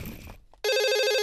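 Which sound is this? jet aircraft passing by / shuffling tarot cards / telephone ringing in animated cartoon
telephone ringing in animated cartoon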